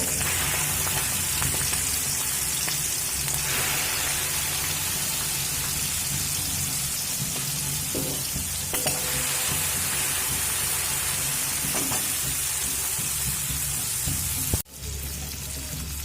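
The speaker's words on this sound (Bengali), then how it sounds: "এবার কেটে রাখা চিংড়ি মাছগুলো ভেজে নেবো" Cut prawns fry in hot mustard oil, producing a loud, continuous crackling sizzle like heavy rain that holds steady before briefly dropping off near the end.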